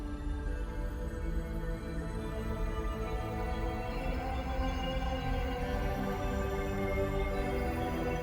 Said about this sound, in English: I love this Lion's Den Cashmere atmosphere.